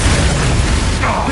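Confringo spell blast from Hogwarts Legacy: a loud, dense burst of fiery noise that stays roaring throughout, with a brighter crackling flare toward the end.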